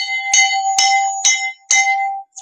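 A metal chime struck hard during a vacuum jar sound demonstration rings out in four loud, bright strikes, each leaving a sustained ringing tone that carries between hits.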